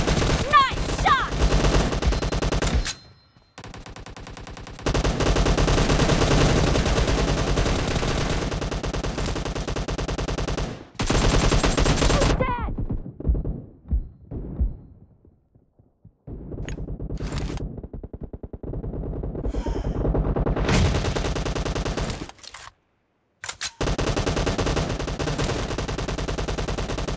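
Loud, close gunfire in the battle royale game BGMI during a team deathmatch, with long automatic bursts broken by short pauses and a few quieter gaps.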